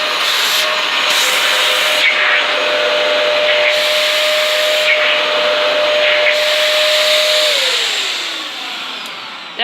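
A refurbished Dyson DC14 All Floors vacuum cleaner runs with a steady, loud, close whoosh and a thin whine that drops in pitch near the end, with no talking.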